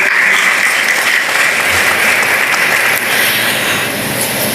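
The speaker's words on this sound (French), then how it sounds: "Je vous invite donc à applaudir encore une fois Dr. Gerlon Bien-Aimé, s'il vous plaît." Audience applause in a university symposium hall in Jacmel, a steady dense wash of clapping that holds evenly throughout without a break.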